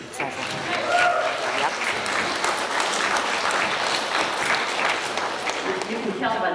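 Applause with cheering from guests at an 80th birthday party, a dense, steady burst of clapping filling the room throughout, with excited voices calling out over it.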